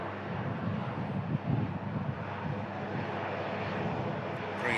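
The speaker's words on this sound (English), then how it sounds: "Dubai Expo 380 being pushed back from stand 12 here at Manchester Airport" An Airbus A380 in Dubai Expo livery is pushed back from its stand at Manchester Airport, giving a continuous low engine and ground rumble with wind noise, steady and distant-sounding.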